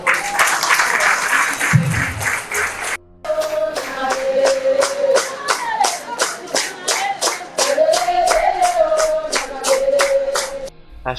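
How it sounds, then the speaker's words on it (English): An audience gives a big round of applause for a woman who survived obstetric fistula, dense steady clapping that runs loud for the whole span, with a few deeper thumps early on and a warm hum beneath. "we really must give Hakia a big round of applause"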